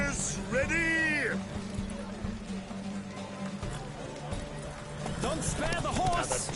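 Horses galloping in a race in The Witcher 3 video game, hooves pounding steadily and fairly close, under a rider's shouted voice and another voice near the end.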